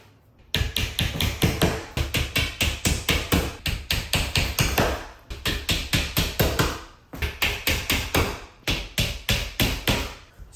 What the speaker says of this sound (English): gently nail it in